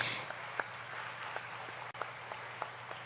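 A church congregation applauds together, producing a steady, dense patter of many hands clapping that continues evenly throughout at moderate loudness.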